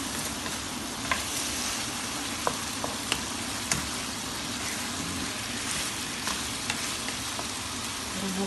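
Chili leaves and lemongrass sautéing in a pan for chicken tinola, a steady dense sizzle with a few small ticks and clinks of stirring throughout, close and alone.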